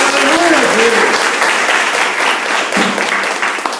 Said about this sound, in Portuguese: Quantos creem podem aplaudir a Ele nessa noite?